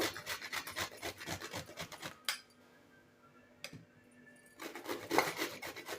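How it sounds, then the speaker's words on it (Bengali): Pointed gourd (potol) is rubbed against a kitchen grater in quick, rhythmic rasping strokes, close up, pausing briefly in the middle before the scraping resumes. "সব একটা গ্রেটারের সাহায্যে গ্রেট করে নেব।"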